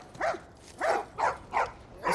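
Dogs bark in The Last of Us Part 1, five separate mid-distance barks in an uneven rhythm, each short and clear over a quiet background with no talking.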